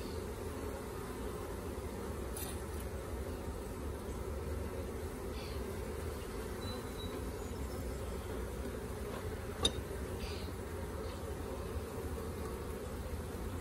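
A honeybee colony hums steadily as a nuc hive is installed, a dense continuous buzz that stays close and even throughout with a few brief louder ticks, and no voices.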